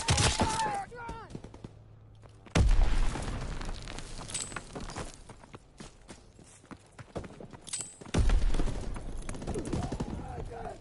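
Call of Duty: WWII gameplay battle with a grenade blast landing as a sharp loud burst, followed by scattered gunfire, clatter and shouted voices, then a second heavy explosive hit later in the clip.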